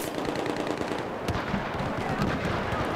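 Sustained automatic gunfire in the video game Battlefield 4, rapid overlapping bursts and distant booms forming a continuous loud barrage, with a sharp crack partway through and no voices over it.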